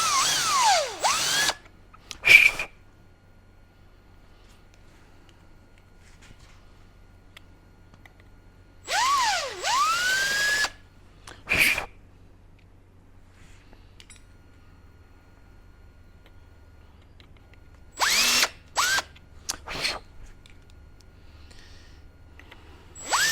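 A power drill with a drill bit cleans burrs from air line fittings, running in three separate short bursts, its pitch dipping and rising as it spins up and slows, with quiet pauses between.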